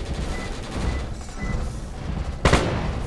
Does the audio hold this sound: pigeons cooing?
no